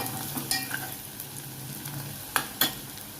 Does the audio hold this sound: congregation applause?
no